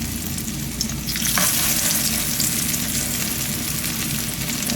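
Spoonfuls of squash patty batter dropped into hot grease, a close, steady frying sizzle that swells as the batter hits the oil and then holds, with no voices.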